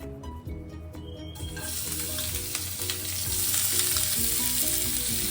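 Garlic dropped into a hot pan, a steady close sizzle that flares up and grows louder as it fries, alone with no talking.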